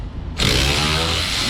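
A power tool suddenly starts up and runs loudly and continuously on rusted bolts of a 2010 Equinox 3.0 AWD, a harsh, buzzing mechanical roar close by.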